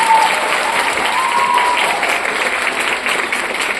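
Audience applause during an interview-style conversation, steady and dense clapping from a crowd that continues evenly for about four seconds with no speech over it.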